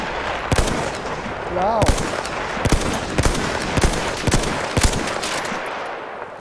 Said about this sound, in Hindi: भाई दस लोगों ने मेरे ऊपर गोलियां चला दी